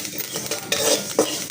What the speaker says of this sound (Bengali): এখন জিরা ভেজে নিতেছি, এগুলো ভর্তা বানাবো।